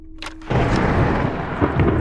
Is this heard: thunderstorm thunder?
yes